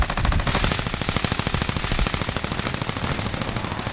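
Automatic gunfire in a video game rattles off in rapid, evenly spaced bursts, loud and continuous, with no voices over it.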